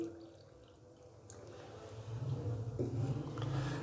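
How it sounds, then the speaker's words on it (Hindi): Water poured from a cup into a bowl holding a tablespoon of cornflour: a steady splashing trickle for a few seconds that grows fuller and louder toward the end, close by with no talking. "अभी मैं इसके अंदर पानी डालूँगा"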